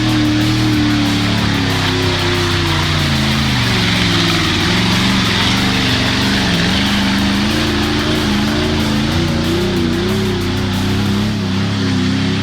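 Engine of a customized 1978 Chevrolet off-road truck droning loud and steady, a rough low rumble with slowly wavering pitch as it works over rough terrain, with no voices.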